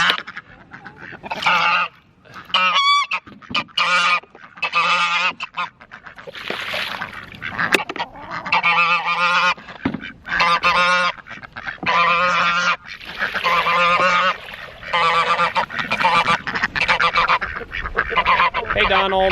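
Farm ducks, including one named Donald, quack and honk loudly and close by in repeated rough bursts, with short pauses between calls throughout.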